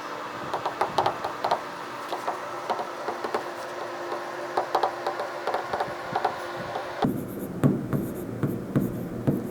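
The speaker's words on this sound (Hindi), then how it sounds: "तो फटाफट लिख लेते हैं।" Handwriting done quickly while working through a Class 7 maths fractions and decimals problem, close rapid pen taps and strokes in uneven bursts against a quiet room.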